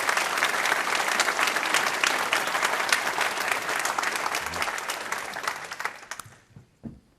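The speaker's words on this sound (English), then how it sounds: "let's just give them a big round of applause for what they did" Loud, sustained applause from a large audience at a political leadership hustings fills the room for several seconds, then tapers off quickly to near silence.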